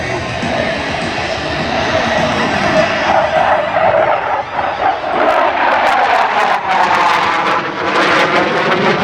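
A loud, steady roar of German Tornado fighter jet engines fills the whole clip during an aerobatic display, with a sweeping tonal whine shifting in pitch as the aircraft passes.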